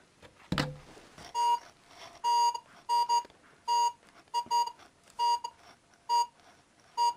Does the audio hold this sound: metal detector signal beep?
yes